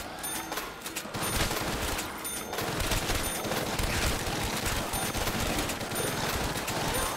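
Rapid sustained gunfire from a weapon in Call of Duty World at War custom zombies, a dense loud volley of automatic shots running almost unbroken across the whole stretch.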